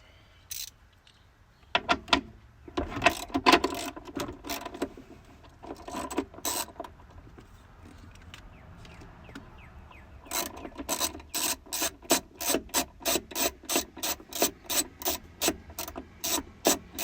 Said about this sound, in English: I got a 13mm socket, got a nice long extension, and then got my 3/8 ratchet